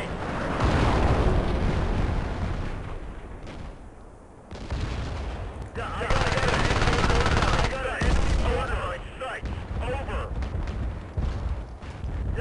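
Bursts of gunfire and explosions from the Battlefield Play4Free video game on the Oman map, loud and dense, with sustained rapid firing broken by short lulls and heavy blasts, with no talk over it.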